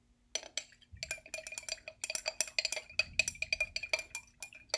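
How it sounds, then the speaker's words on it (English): A spoon clinks and scrapes against a glass while stirring cornstarch and food coloring into water, a fast run of close, bright metallic taps with no talking. "So I'll stir that up again."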